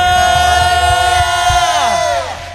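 Church congregation in an Indonesian Pentecostal Sunday service shouting hallelujah together, a loud sustained massed cry that swells and then fades, with music behind it.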